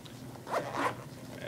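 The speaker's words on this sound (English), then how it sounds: "And then it also has this little zipper here. Open that up." A zipper on a Game Boy carrying case is pulled open in two quick rasping strokes, close and fairly quiet, over a soft background hiss.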